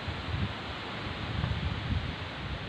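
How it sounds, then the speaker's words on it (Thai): Blustery wind sweeps through an outdoor spot in Phon Sawan district, Nakhon Phanom, just before a rainstorm arrives, a continuous noisy rush that swells in a few low gusts with no one speaking. "ลมกระโชกแรงมาก"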